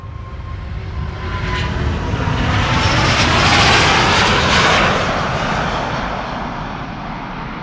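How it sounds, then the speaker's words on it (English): Delta Airlines Airbus A350 jet departs Amsterdam Schiphol bound for Detroit, its engine roar swelling to a loud peak mid-way and then easing off as it passes. "This is Delta Airlines, flight 133 to Detroit, A350"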